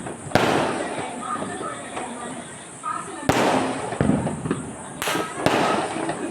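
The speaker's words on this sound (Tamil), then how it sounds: "ஆங்காங்கே வெடி சத்தம் இன்றைக்கு மட்டும்தான் இருக்கும் இந்த வெடி சத்தம்" Sharp firecracker bangs go off one after another across a residential neighborhood at irregular intervals, close and loud, with crackling and a busy background between them.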